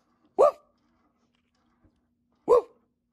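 A person imitates a dog with two short, loud vocal barks spaced about two seconds apart, with quiet in between.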